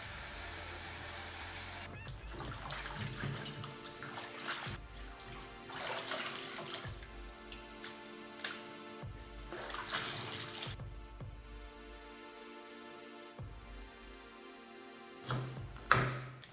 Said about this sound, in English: I dip the vegetables in water.